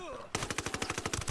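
Rapid automatic gunfire from a gun in Ghost Recon Wildlands, a fast, even string of about a dozen loud close shots that starts abruptly after a brief quiet moment.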